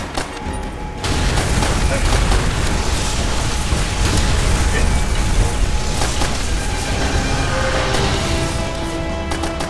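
Demolition charges go off in Call of Duty: World at War, with a sudden loud, roaring barrage of blasts and crackling debris that holds at full force for several seconds.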